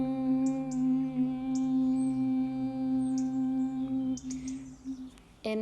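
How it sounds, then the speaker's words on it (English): Bhramari humming breath exhaled during yoga: a steady, resonant hum held for about four seconds, then breaking off into breathy noise, with faint chirps in the background. "So this is the humming breath."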